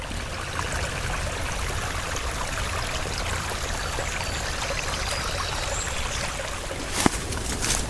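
Rainwater runs off boggy hillsides during a heavy downpour, a steady close rush of flowing water holding even throughout, with a sharp brief knock near the end.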